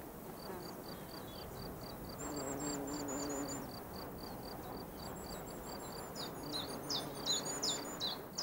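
Small birds among tall mountain grass give repeated high chirps and tweets, several calls overlapping in a continuous twittering over a steady outdoor background, with no talk.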